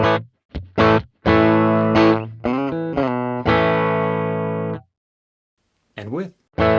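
Clean electric guitar played through a Fractal amp with no reverb, bright picked notes and chords that stop dry with no tail, separated by short gaps and near silence.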